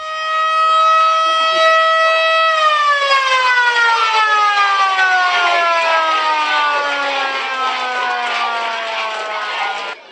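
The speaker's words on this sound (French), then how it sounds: "nous venons de prendre possession pour les enseignants de la sirène" A newly installed school siren wails loudly, holding a steady rising tone before sliding down into a long, gradually falling drone as it winds down, with no voices heard.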